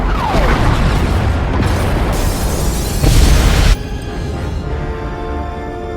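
Loud, sustained explosions rip through the pod bays in Star Wars: The Old Republic, a rolling roar with a heavier blast surge near the end, then a lower rumbling tail.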